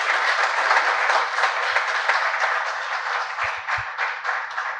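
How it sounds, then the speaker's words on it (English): Audience applause rising at the close of a speech, a dense, steady clapping that carries on for about five seconds with no talking over it. "Give him a better clap."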